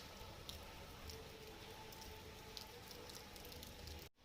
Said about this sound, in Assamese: বৰষুণ দি আছে কিন কিন কৰি